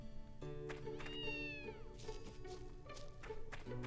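A cat meows in a pet shop in the video game Zwei, a few short mewing calls set over a looping musical background with light thuds, fairly quiet and with no talk.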